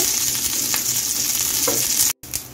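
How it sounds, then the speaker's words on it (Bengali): About ten to twelve curry leaves crackling in hot oil for a dhokla tempering: a loud, steady, close sizzle with light stirring, briefly cut to silence near the end before resuming. "এখন আমি কারি পাতা দিয়ে দিচ্ছি, 10 থেকে 12টা কারি পাতাটা একটু ভেজে নিচ্ছি।"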